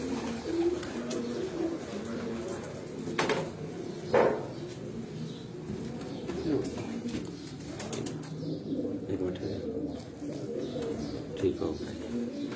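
Pigeons coo in soft, throaty repeated calls amid a busy background, with people talking nearby.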